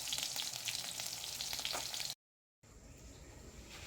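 Pork pieces fry in a pan until golden brown, making a continuous close sizzle with bright crackling, briefly cut to silence before the sizzle resumes slightly softer.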